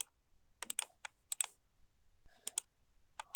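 Someone types a word on a computer keyboard, making short clusters of close, crisp key clicks separated by brief quiet gaps.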